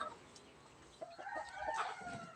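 Faint clucking from a black Australorp chicken and a short crowing call in quiet surroundings, heard at a distance.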